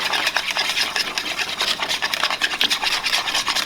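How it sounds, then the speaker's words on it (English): Milk and flour being whisked together into a slurry in a bowl, a fast close scraping and rubbing that runs steadily without pause. "1 tablespoon of flour. Just go ahead and whisk that together. Make a little slurry here."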